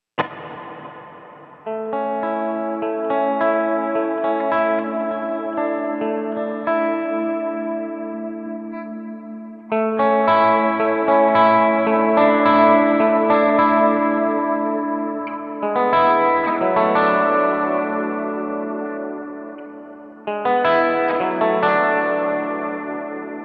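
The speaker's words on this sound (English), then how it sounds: "let's add some ambient reverb. I love the dynamic hall." Sustained electric guitar chords through a Line 6 Helix with a dynamic hall reverb ring out with a wide, spacious reverb tail, struck anew every few seconds and swelling into a lush wash.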